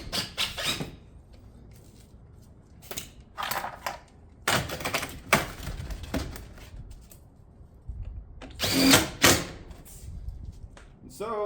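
Power tool fastening Pine Crest shake batten siding panels through the top edge, several short bursts with pauses between them, close and fairly loud, with clicks and handling noise around them.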